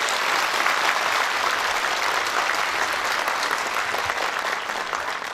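A hall audience at a Kastamonu community evening applauds to welcome Mayor Yasin Kartoğlu, a dense, even wash of clapping that holds steady and eases off slightly at the end.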